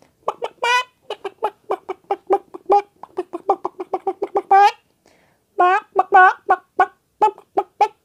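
A voice imitates a chicken with a long series of rapid, sharp clucks, broken by a brief pause and then more clucking, close and loud.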